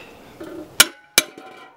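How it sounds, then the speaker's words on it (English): Two sharp metallic taps of a hammer on a #10 tin can, widening punched holes for a can lantern, each ringing briefly, with faint handling noise between them. "Grab our hammer. Let's just widen them out just a little bit wider."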